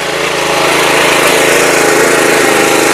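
An Agrineer power weeder runs with its rotor attached, its small engine giving a loud, steady, close drone with a fast even chatter. The sound is continuous and there is no talking.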